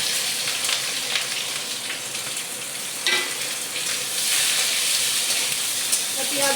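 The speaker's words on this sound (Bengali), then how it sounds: "এবার ওই তেলে আমি পেঁয়াজ কুচি, রসুনটা একটু কুচিয়ে নিয়েছি আর 10টা কাঁচা লঙ্কা দিয়ে দিলাম" Chopped onion, garlic and ten green chilies hit hot oil in a pan while making spicy chili chicken, a loud, steady close sizzle and hiss with brief stirring scrapes.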